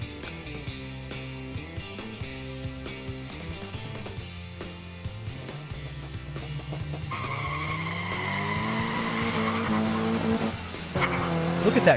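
A modified 1/64 diecast Cougar muscle car races down a track and slides sideways over the finish line, a continuous loud engine-and-skid sound effect with rising squealing tones, no talk.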